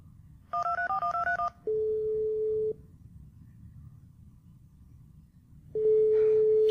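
A telephone dials out with a quick series of DTMF keypad tones, then a steady ringback tone sounds twice with a pause between, clear and alone.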